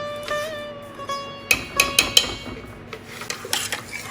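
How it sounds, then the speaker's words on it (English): A metal spoon scrapes and knocks against the bottom of a cooking pot while stirring a dish sweetened with palm sugar, with sharp clinks and scrapes in quick bursts between quieter stirring, no talk. "Make sure the bottom is scraped well so there is no browning in the bottom."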